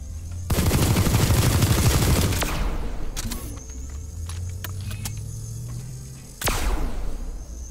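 A new battle rifle fires on the Planetside 2 test server in a rapid, loud automatic burst, then scattered single cracking shots, then another burst near the end, with mechanical clicks between.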